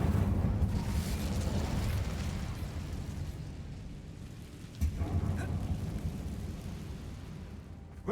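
A fire spell called Incendio is cast in a video game set inside a dark, abandoned mine, producing a loud, sustained roaring burst of flame and rumble with a second heavy whoosh near the midpoint.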